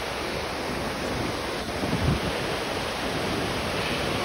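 Loud rushing water fills the scene on a family outing in Tarsus, a dense, constant roar heard close up, with wind buffeting the microphone and a slight surge around the middle.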